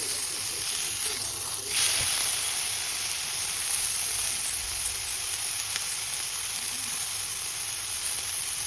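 Steak and mushrooms sizzle on a grill, a loud, dense, continuous hiss close up that holds steady throughout with no talking.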